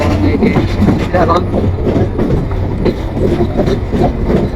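A loud train rumbles past close by at a busy Ishwardi rail crossing in Bangladesh, its steady heavy roar filling the whole stretch with rattling, clattering wheels on the rails.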